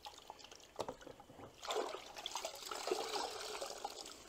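A wash mitt is squeezed out in a bucket of rinseless wash water, giving soft splashes and a trickling drip, close and quiet, with one sharp knock early on.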